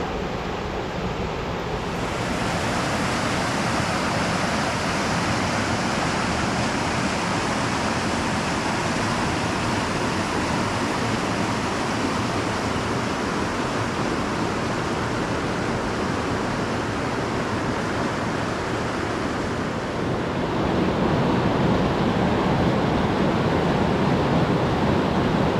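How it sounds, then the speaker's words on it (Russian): A small waterfall on a river in Putorana roars as a steady, dense rush of water, loud and close throughout with no talk. "Как-никак маленький водопадик."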